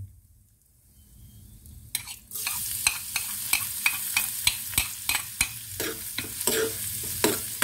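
Garlic dropped into hot oil for misua with vegetables bursts into a sudden sizzle after a quiet start, followed by a regular series of spatula scrapes stirring it in the pan, with no voices.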